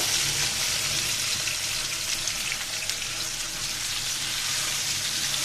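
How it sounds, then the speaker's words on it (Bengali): Eggplant fries in a pan with a steady, dense sizzle that holds at an even level throughout, close and alone without any talking. "আমি ভালো মতো বেগুনটাকে ভেজে নেব এখানে"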